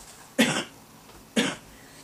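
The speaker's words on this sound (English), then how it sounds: "Sorry, I'm going to cough." A woman coughs twice, close to the microphone, each cough short and sharp with about a second between them in a quiet room.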